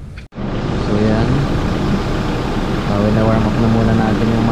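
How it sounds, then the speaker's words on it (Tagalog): A Toyota Hilux Conquest engine idles steadily while warming up before an oil change, a continuous low rumble close to the microphone with a faint tonal hum. "warm up na muna natin yung makina bago natin i-drain yung langis."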